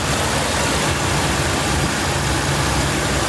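A Jeep 4.0L engine idles while warming up, with its thermostat still closed, giving a loud, steady close-up drone with no pauses and no talking.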